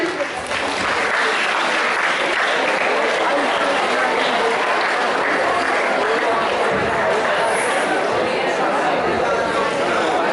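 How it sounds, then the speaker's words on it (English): A school audience at a mathematics day event breaks into a long, loud round of applause, dense clapping sustained for about ten seconds with chatter mixed in. "Can you have a huge round of applause for him?"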